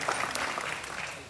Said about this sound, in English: we should give everybody a round of applause because they work extremely hard to put on a quality event